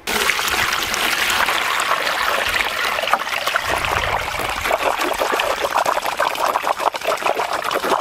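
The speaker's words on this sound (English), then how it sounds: "You can watch it really well here and see it dripping through into the bottom system, bottom tiers." Water poured into a stacked Greenstalk vertical planter, trickling and dripping down through the soil tiers into the lower levels; a continuous close, fairly loud splashing stream with scattered drips.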